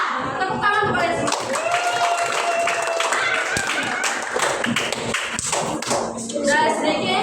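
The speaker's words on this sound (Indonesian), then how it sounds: "Tepuk tangan kepada sini." A sixth-grade class clapping hands together in a classroom, rapid mixed claps and taps with thuds, busy and continuous alongside children's voices and background activity.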